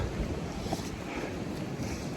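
Steady wind gusting across a mountainside on the Appalachian Trail, a continuous broadband rush buffeting the microphone with no voices.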